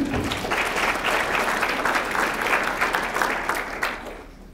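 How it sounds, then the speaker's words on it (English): Audience applause at an affordable housing summit, a steady wash of clapping from a room of people that holds for about four seconds and then fades out. "Let's give her a round of applause."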